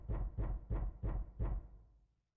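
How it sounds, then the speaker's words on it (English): Five evenly spaced knocks on a door in the Zero Escape: Nine Hours, Nine Persons, Nine Doors video game, firm and close, then fading into silence. "Sound like knocking."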